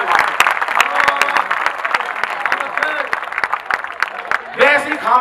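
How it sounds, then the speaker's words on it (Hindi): Audience applause at a Hindi comedy poetry show, lively clapping with crowd noise underneath, slightly uneven, rising again near the end as a voice starts to speak. "तालियां एक बार हाथ उठा के बजाओ"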